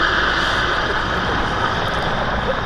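A Czech Air Force Mil Mi-35 helicopter of the 221st Helicopter Squadron performs at the Duxford airshow, its engine and rotor roar loud and continuous, a steady broad drone that holds throughout.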